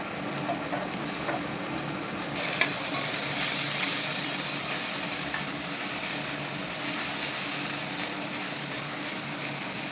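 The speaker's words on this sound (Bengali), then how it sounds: "এর মধ্যে আমি ওই চিকেন সেদ্ধটা একটু ভেজে নেব।" Boiled chicken fries in a pan with a steady, close hiss and sizzle that carries on evenly for ten seconds, with no one talking.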